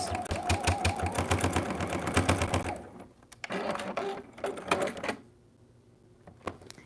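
An old, heavily used sewing machine stitches through thick fabric seams in a fast, clattering burst, pauses, then runs again in a shorter clunking spell before stopping, loud and close.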